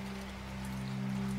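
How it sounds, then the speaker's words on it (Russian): Rain drumming heavily on a roof, a dense, steady patter that stays even and fairly close throughout the short stretch, with no voices. "Ненавижу дождь."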